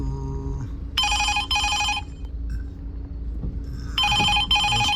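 A Rapido app ride request alert rings on a phone in a car in Hyderabad, sounding two short double bursts of electronic trilling separated by a pause, over low road hum.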